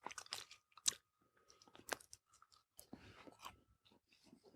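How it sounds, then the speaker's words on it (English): Someone chews food right against the microphone, with crunchy bites, wet smacking and saliva sounds in irregular bursts and short pauses. "he's chewing directly into the microphone, so you can hear every single drop of saliva moving around his mouth"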